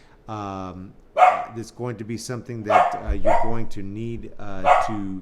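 Bella the dog barks several times in sharp, separate bursts, close by and indoors, while a person keeps talking over the barking.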